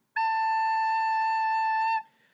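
One clear held A on a wind instrument, a bright steady tone with strong harmonics lasting nearly two seconds and then cutting off, played alone with nothing else audible.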